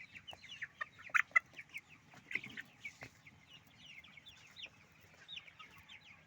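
Sonali chickens cluck softly and irregularly while eating mixed feed blended with bran, maize meal and dried fish powder moistened with water. The calls are faint, scattered and overlapping, with a few louder clucks near the start.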